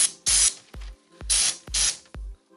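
A paint spray gun coats a car body with paint thinned with petrol, giving five short, loud hissing bursts in quick succession, each ending in a low puff, with brief pauses between.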